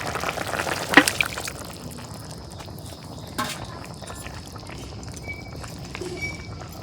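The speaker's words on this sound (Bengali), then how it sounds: "তরকারি বলক উঠছে, মাছ দিয়ে দিই।" A pot of eggplant curry simmers and bubbles as mirka fish is dropped in with a soft splash near the start, followed by a steady, quiet bubbling and occasional faint clinks close by.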